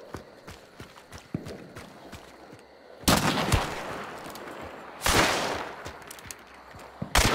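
Gunshots from the Hunt: Showdown video game, including a Martini rifle and a conversion pistol, ring out as two loud close blasts with lingering tails, with lighter footsteps and scattered clicks between them.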